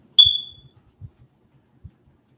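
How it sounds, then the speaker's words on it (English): A smoke detector with a failing low battery gives one sharp, high electronic chirp indoors, followed by a few soft dull knocks in near silence. "the smoke detector battery is going to probably bother me more than it's going to bother y'all"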